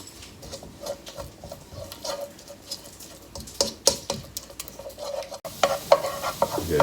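Garlic sizzles steadily in oil in a pan with crackling pops and occasional stirring scrapes, close and moderately loud, growing busier toward the end.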